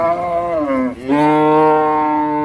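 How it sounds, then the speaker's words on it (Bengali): A Sahiwal-mix cow moos loudly and close at a Rajshahi city cattle market, one long drawn-out call that dips briefly in pitch before rising and holding steady. "আপনার এই গরুটা কি জাতের বলছেন"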